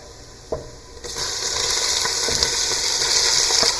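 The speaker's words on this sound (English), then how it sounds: "Let's add the codfish here with the garlic, onions, a mixture." Codfish goes into a pan with garlic and onions, setting off a loud, steady sizzle after a single sharp clack, with a few faint stirring knocks under the hiss.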